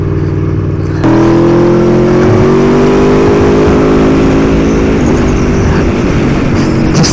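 An Aprilia Tuono V4 motorcycle engine revs hard and close, its pitch climbing steadily before dipping and rising again at a gear change, with a loud, continuous roar throughout.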